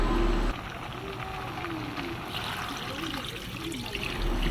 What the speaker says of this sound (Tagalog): Dagdagan ng isang balding tubig.